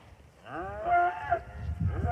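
Cattle moo repeatedly in an open mountain meadow, several drawn-out calls overlapping at moderate distance, one rising bawl near the end.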